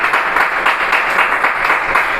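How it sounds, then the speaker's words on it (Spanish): A church congregation applauding, a steady dense wash of many hands clapping together without pause, loud and continuous with no voices standing out. "Tengo un aplauso al Señor por su palabra."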